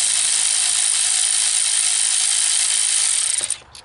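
A ratchet on the throttle body bolts of a 2011 Cadillac CTS4 with the 3.6 engine, a rapid continuous clicking close up that runs steadily and then stops abruptly near the end.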